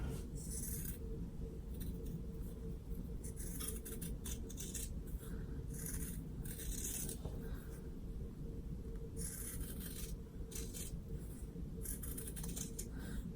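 Scissors cutting fabric for a handmade kitty pencil case, heard as repeated soft snipping and rustling strokes in bursts, quiet and close with no talking.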